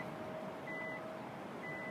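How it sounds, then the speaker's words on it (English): Two short electronic beeps from a 2017 Hyundai Elantra's smart trunk sound close together, followed by another faint pair, over a steady low hum. "There's the beep."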